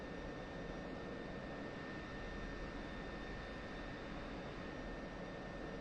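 A steady, broad jet engine roar from an F-16 on approach to land, a continuous even drone with faint high whine tones, alone and moderately loud throughout.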